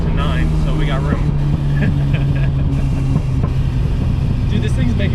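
A Nissan R34 GTR fitted with titanium intakes holds near its rev limiter around 7,000 rpm, a loud, sustained, buzzing engine drone with fluttering pulses from the limiter, and voices talking over it in the cabin.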